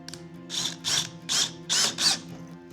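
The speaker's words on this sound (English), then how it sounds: "I'm gonna go ahead and put a few set screws on so it's a little safer to keep working it." Set screws driven with a power driver into a plywood climbing board, heard as five short whirring bursts in an even rhythm, close and fairly loud over a steady low hum.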